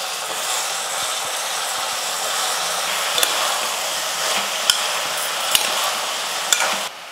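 Okra, brinjal and ridge gourd sautéing in hot oil with green chillies for a Tamil kadayal, giving a steady broad sizzle with a few sharp spoon scrapes and taps against the pan.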